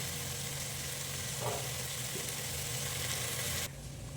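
Onions with cumin sautéing in a pan for a village-style fish curry, a steady close hiss of frying with a brief stir, continuing for several seconds before the sound abruptly drops lower near the end.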